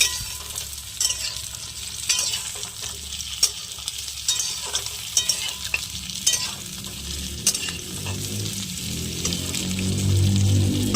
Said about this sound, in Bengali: হালকা করে ভেজে নিতে হবে।